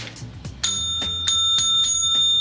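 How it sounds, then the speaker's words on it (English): A cafe bell rings several times with clear, sustained metallic tones that overlap and linger, over clattering background noise. "we got a bell at the cafe, so there you are"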